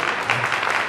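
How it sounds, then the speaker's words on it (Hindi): A child claps with quick, steady hand claps during a show screening for army personnel, loud and close, with a faint voice underneath. "और बेटा ऐसी ताली मारते रहना मेरे लिए हमेशा"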